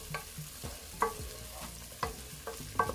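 One big onion frying in olive oil for jollof rice, a soft sizzle under repeated stirring, with spoon scrapes and clinks against the pot at a steady rhythm of roughly one per second.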